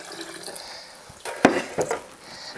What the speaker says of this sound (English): Then I just pour some more